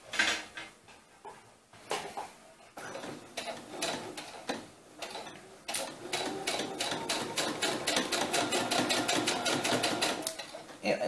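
A sewing machine stitches white thread in basting runs on a doll's winter cap, starting in short bursts and then running fast and steady with a dense mechanical rattle.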